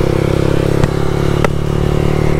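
Yamaha R1 motorcycle fitted with an Akrapovic full-system exhaust, giving a loud, continuous low rumble while riding, with a couple of brief sharp pops breaking through the steady drone.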